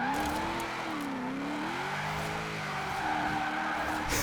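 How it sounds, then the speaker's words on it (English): In Forza Horizon 4, a low-slung car with drift suspension spins its rear wheels and skids, and the engine note rises and falls under a steady tyre hiss at moderate distance. "it has the power to spin its rear wheels"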